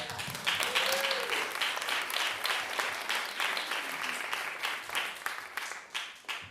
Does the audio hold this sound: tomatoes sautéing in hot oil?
no